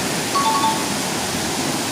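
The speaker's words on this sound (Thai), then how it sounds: "และนี้คือน้ำตก" A steady, dense rush of a large forest waterfall in Thailand roars evenly throughout, a broad constant wash of sound with no pauses.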